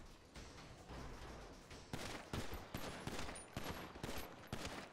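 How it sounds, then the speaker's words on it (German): Gunfire in a GTA roleplay game: rapid bursts of shots crack out in a dense volley, growing sharper and louder after the first two seconds with distinct repeated reports. "knall alle um"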